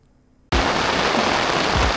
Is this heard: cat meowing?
no